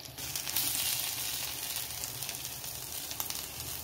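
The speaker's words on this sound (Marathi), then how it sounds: "ब्राऊन कलर येईपर्यंत आपण हे फ्राय करून घेऊ." Ragda patties fry in oil in a steel pan, a steady close sizzle with soft crackling pops throughout and no talking.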